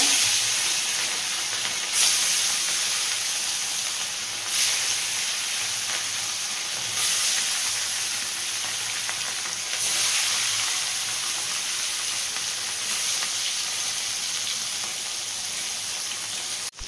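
Pieces of rui fish, rubbed with salt and turmeric, frying in hot oil: a steady loud hiss and sizzle runs throughout, flaring up each time another piece is slipped into the pan, with no talk.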